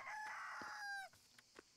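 A rooster crows in the Everdream Valley farming game, one loud, close crow lasting about a second, then a few soft clucks.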